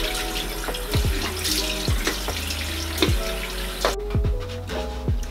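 A bathroom tap runs into a sink while a face mask is rinsed off, giving steady close splashing water broken by repeated hand splashes and scoops in an irregular rhythm, without talk.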